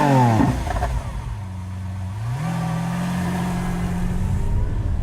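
A Lamborghini Aventador SV launches hard on a track lap. The engine note dips after a sharp opening burst, then climbs into a loud, sustained, rising howl close to the listener.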